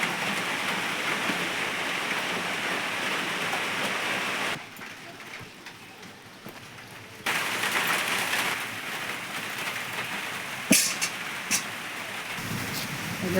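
Heavy downpour of rain hissing steadily in a Bengali village, broad and constant, dropping to a softer patter for a few seconds before returning at full strength, with a couple of sharp knocks near the end.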